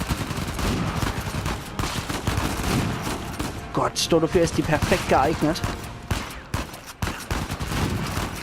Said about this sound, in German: da brauche ich jetzt mal Pumpy die Pumpgun als Freund